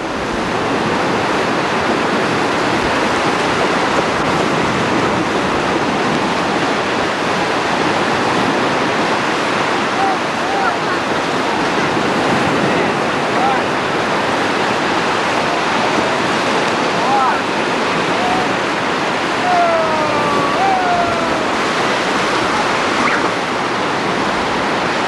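Ocean surf rolls in continuously at Padre Island beach on a family vacation, a loud broad roar of breaking waves with constant wind buffeting the microphone and no clear gaps.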